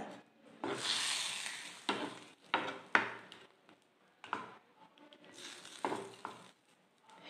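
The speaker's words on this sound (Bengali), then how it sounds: "শুকনো লঙ্কা ভাজা" Dried red chillies and a pinch of chilli powder tempering in hot oil for a prawn malai curry, giving a crackling sizzle that rises and falls in short bursts with brief stirring noises, close and moderately loud.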